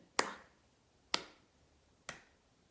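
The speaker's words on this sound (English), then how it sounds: "Can you clap with me? We're going to go 1, 2, 3, 4." Three sharp, evenly spaced percussive hits in a body percussion lesson, clapped hands keeping a steady pulse about a second apart, each crisp and close with a quick decay and no voices.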